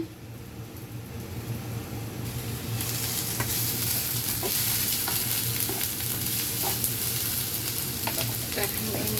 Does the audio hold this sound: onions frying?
yes